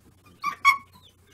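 A dog being trained to bark on cue gives two short squeaky whines in quick succession, close and moderately loud, over a low steady hum.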